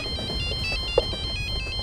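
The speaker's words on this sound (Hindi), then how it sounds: "पका दिया इस आशीष ने मुझे फोन करके" A phone ringtone plays in a repeating electronic pattern of short tones over a steady background hum, with no speech.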